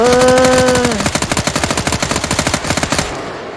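Rapid automatic gunfire in the survival game Fear the Night, a loud, steady stream of evenly spaced shots running for about two seconds after a brief sustained tone, then breaking off.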